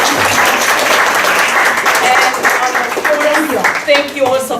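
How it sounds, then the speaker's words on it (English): Lecture audience clapping after a presentation in a hall, a loud sustained round of applause with a voice talking over it. "One big applause."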